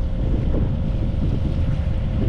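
Beneteau Oceanis 45 sailboat motoring on its 54 hp Yanmar diesel engine at about 1,200 RPM, a loud steady low rumble with a constant drone tone mixed with wind and water noise, no voices.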